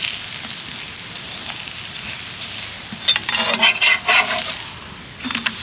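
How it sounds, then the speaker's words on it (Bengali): Rumali paratha frying in a little oil on a hot pan while it is flipped, giving a steady soft sizzle that swells into louder crackling bursts near the end. "এইভাবে উল্টে পাল্টে সুন্দর করে পরোটাটা ভেজে নেব।"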